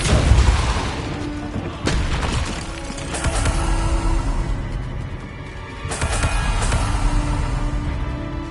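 Spells cast in Hogwarts Legacy, including Depulso, land as several loud booming bursts at irregular intervals, each a broad crashing hit that rings out and settles into a rumbling background.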